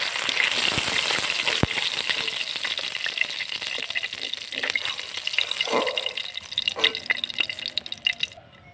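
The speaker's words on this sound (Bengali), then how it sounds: "তেলের ভিতর জলটা দিয়ে দিলাম।" Water goes into a pan of hot oil left from frying fish, setting off a loud, close hiss and bubbling sizzle that runs steadily for several seconds before easing near the end.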